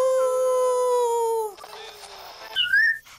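A toy radio plays a wolf's howl as one long, sustained wavering tone, loud and close, followed by a short burst of static and a brief whistle-like chirp.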